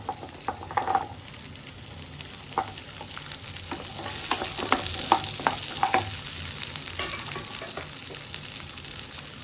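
Sorrel leaves and onion sauté in oil with a continuous low sizzle, broken by repeated sharp scraping and tapping strokes of a spoon against the pan, close and clear without speech.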